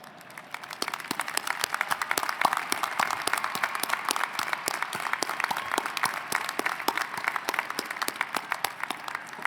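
Honors graduates being applauded at a business college spring commencement ceremony: a large crowd claps continuously and evenly for the whole stretch, a dense, steady roar of hands with no speech over it.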